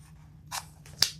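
Scissors cut fabric for a crossbody bag, giving two short, close snips with the second one sharper and louder, set against a quiet low hum.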